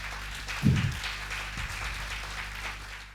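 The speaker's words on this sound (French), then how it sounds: "Sous vos applaudissements, Monsieur Corneille Chabala" An audience at a women's eloquence contest in Lubumbashi applauds a speaker, a continuous wash of clapping with a soft thump near the start that carries on evenly to the end.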